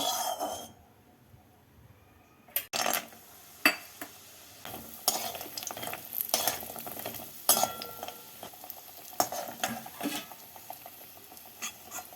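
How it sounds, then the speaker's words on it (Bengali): Sun-dried lentil bori dropped into hot white oil in a kadai over a gas flame, a steady close sizzle with sharp clinks and scrapes of a spoon against the pan, after a brief quiet start. "তেলটাকে ভালো করে গরম করে নিয়ে পরিগুলোকে হালকা লাল করে ভেজে তুলে নেব"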